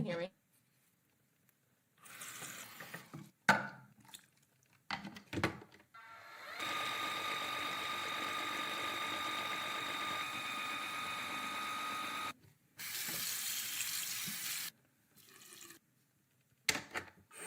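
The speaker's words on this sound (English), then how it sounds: "This is our brush cleaner, you guys. It kind of does all the work for you." A small electric makeup brush cleaner motor whirs steadily in bursts, a close mechanical spinning hum that starts and stops, with short pauses and brief talk around it.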